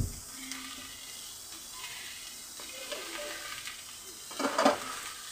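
Shrimp for a broccoli stir fry hit a hot pan and sizzle with a soft, continuous frying hiss, then a brief louder burst of crackle as they are stirred near the end.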